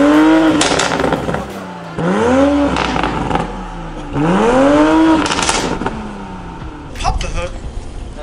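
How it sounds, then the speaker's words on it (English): A car's exhaust in sport mode revs hard three times, each rise climbing in pitch and then dropping back with crackles, loud and close, followed by a brief blip, with voices talking underneath. "What did you think about that exhaust sound?"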